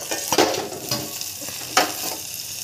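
Eggplant slices topped with grated fresh coconut cook in a pan with a soft continuous sizzle and a few scraping stirs or spatula taps.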